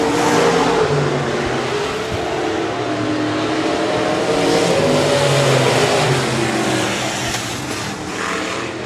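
A B-modified race car engine on a dirt speedway roars loud and close, a continuous throaty drone that rises and falls slightly as the car comes out of a turn.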